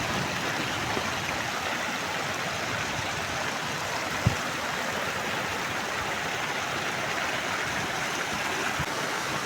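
A thin roadside waterfall pours during heavy monsoon rain, a steady, even hiss of falling water close by, with one brief knock partway through.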